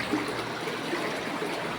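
Water from a spring runs in a steady, unbroken rushing trickle, close and moderately loud, with no voices.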